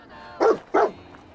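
Two short, sharp barks from a dog in the video game Fallout 4, quick one after the other, loud and close with a faint background hum.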